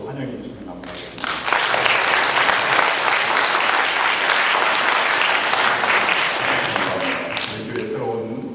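Applause from a church congregation welcoming performers, steady and sustained after a short quieter start, with talk faintly underneath.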